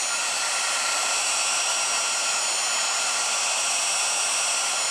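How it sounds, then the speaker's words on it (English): A heat gun running on high while melting solder for a Ford F-150 door wiring repair, a loud constant close-up blowing roar with no change throughout. "I'm going to go ahead and turn my heat gun to high and let it heat up."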